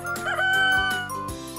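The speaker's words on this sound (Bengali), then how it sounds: "কক ডাকে খুব ভোরে।" A rooster crows once, a clear, loud cock-a-doodle-doo with rising and falling pitched calls lasting about a second and a half, heard alone and close.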